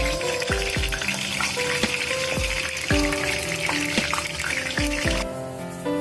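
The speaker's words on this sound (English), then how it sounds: "You can start adding about 2 to 3 eggs. So we're going to shallow fry." Eggs shallow frying in hot oil in a pan for an egg masala, a loud continuous close sizzle and crackle with some musical tones running underneath.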